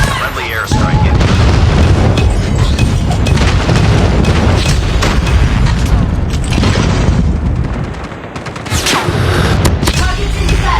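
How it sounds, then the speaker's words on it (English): Rapid, heavy airstrike explosions in the Call of Duty Mobile multiplayer ranked match on the Frontline Monastery map, a dense continuous rumble of booms and blasts with gunfire-like cracks, loud throughout with a brief dip near the end. "Friendly airstrike incoming."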